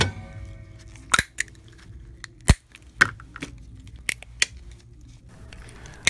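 A cutting tool snips through a Canon PG-245 ink cartridge, giving a series of sharp, distinct cracks and clicks spaced irregularly over a quiet background, close and alone.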